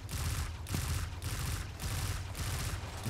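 Heavy gunfire rattles through a Destiny 2 firefight in dense, repeated bursts. The shots come loud and close and keep up almost without a break.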